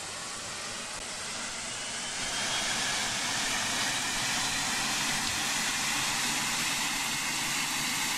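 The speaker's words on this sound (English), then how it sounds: "We're going to start engine 1." A Boeing 757 jet engine spools up during start in the Project Flight game, in Azur Air livery: a steady broadband roar that swells in level after about two seconds and then holds constant, with no talking.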